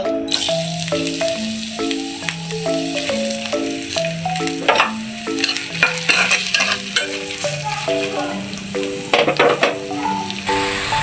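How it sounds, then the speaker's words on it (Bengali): Onion and chili frying in oil hiss and crackle up close while a spatula stirs and scrapes the pan in repeated strokes, against a steady background tone. "প্রথমে পেঁয়াজটা আর মরিচটা ভালো করে ভেজে নিব"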